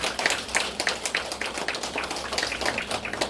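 Audience at a temple certificate ceremony for a temple food course applauds, moderately close, with a loose pulse of overlapping claps continuing evenly throughout.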